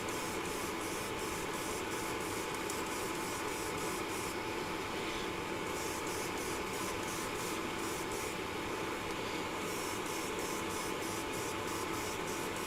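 Airbrush spraying a second coat of Vallejo color shift paint: a steady, close hiss of atomized paint with short pulses of the trigger and faint rubbing, and no voices.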